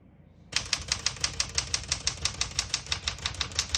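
Rapid, even keystrokes on a 1973 Galaxie 12 vintage portable typewriter set to single spacing, starting abruptly after a short pause and clacking at a steady rhythm, close and crisp, with no voices.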